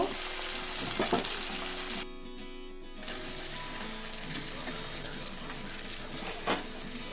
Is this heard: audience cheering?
no